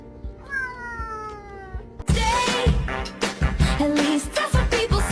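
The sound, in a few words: cat meowing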